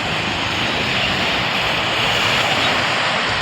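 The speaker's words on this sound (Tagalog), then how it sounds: "Ganda ng hampas ng alon guys." Ocean surf washes steadily onto the shore near Boracay, a continuous broad roar of breaking waves mixed with some wind buffeting on the microphone.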